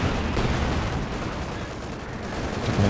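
A heavy tank gun shot strikes a Comet tank in Company of Heroes 2, a deep booming blast amid continuous rumbling battle noise of gunfire and explosions, with no talk.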